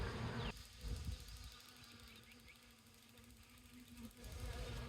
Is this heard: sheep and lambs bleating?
no